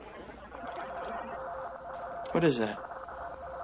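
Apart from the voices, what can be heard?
Morse code signal over radio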